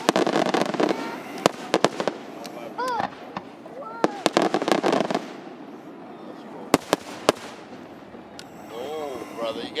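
Fireworks bursting in Portland, sharp cracks and booms popping irregularly through the whole stretch, some loud and close, with people talking and whistling in the background between blasts.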